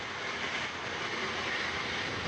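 An Antares rocket lifting off from its launch pad at the Wallops flight facility, heard as a continuous broad roaring rumble that stays steady and loud throughout.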